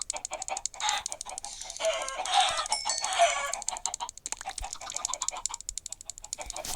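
Several Minecraft chickens cluck and murmur in a busy, uneven chatter, with occasional sharper calls mixed in.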